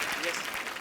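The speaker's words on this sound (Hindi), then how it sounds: "अब तालियां" A studio audience on a Hindi comedy talk show breaks into applause, a brief dense burst of clapping heard close, with a voice faintly underneath.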